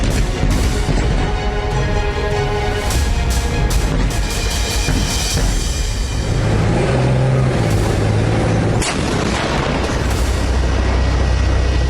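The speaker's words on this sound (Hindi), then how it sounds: "इजराइल की तोपें गरज रही हैं।" Israeli artillery cannons firing in the Gaza Strip war, heavy booms and blasts over a continuous rumbling background, loud and dense, with a few sharp bursts standing out.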